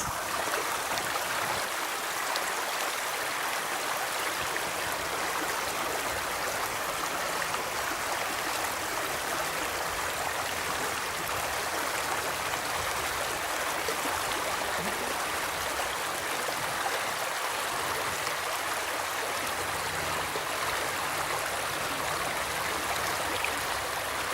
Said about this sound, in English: Just a short ways from the entrance is this little creek, a bubbling creek.